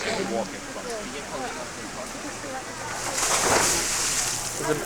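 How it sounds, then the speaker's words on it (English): A pigeon or dove coos in soft repeated calls at Walt Disney World in 1998, heard under people talking and a busy background wash. "There's a bird in there"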